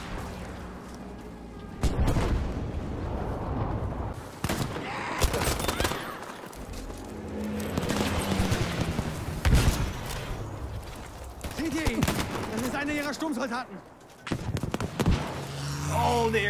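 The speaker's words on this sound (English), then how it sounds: "Oh, the airstrike, yes!" Airstrike explosions and gunfire from Battlefield 5 at the Al Sundan Airfield, with a Sherman tank nearby: loud, repeated blasts and bursts rumble across the whole stretch, with a speaking voice running beneath them.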